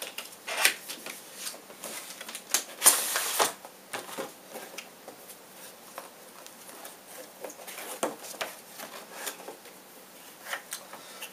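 Cardboard box of a Club 3D GeForce GTX 560 graphics card being opened, with close, dry scraping, flap rustles and sharp crinkly bursts scattered irregularly over eleven seconds, one louder tearing rasp near the start, no talking.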